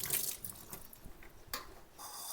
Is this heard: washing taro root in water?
yes